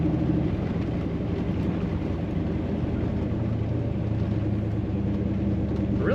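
A 1966 Chevrolet Corvette convertible engine rumbles in a deep, steady drone while driving, loud and continuous with road noise and no breaks.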